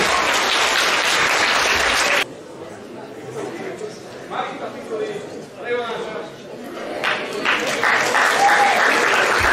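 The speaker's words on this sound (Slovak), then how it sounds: "Veľký potlesk." Big round of applause from an audience at a commemorative lecture on Vladimír Clementis, 120 years since his birth, loud and dense for two seconds, then fading to scattered clapping with chatter and voices talking.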